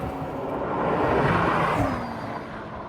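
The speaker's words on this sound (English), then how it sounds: "because it's carbon and there's not much insulation, you hear the road, you hear the gravel and the sand" Steady road and gravel roar inside a carbon-bodied 3D-printed car with little insulation: a dense broadband rumble that swells a little mid-clip and then eases, with no talk.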